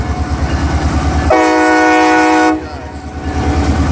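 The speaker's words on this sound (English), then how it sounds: "That's a beautiful train." A loud CSX freight train rumbles past close by, its horn blaring in one long steady blast before cutting off as the rumble continues.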